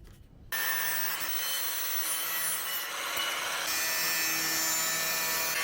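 Steady, loud abrasive grinding as a metal trampoline leg is cut for an upcycled fire pit seat, beginning abruptly after a brief quiet moment and running continuously with a slight shift in tone partway through.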